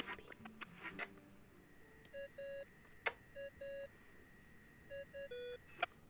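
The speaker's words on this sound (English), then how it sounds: "I really hate that ringing tone." Electronic phone ringtone in Genshin Impact, heard as several short bursts of bright beeping chimes in a repeating pattern, moderately loud over soft background music and sparse sound effects.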